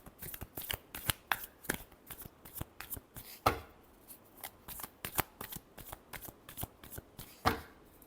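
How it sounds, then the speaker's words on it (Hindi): Tarot cards being shuffled by hand in a quick, steady run of crisp riffling flicks, close and fairly quiet, with no talking. "Last shuffle."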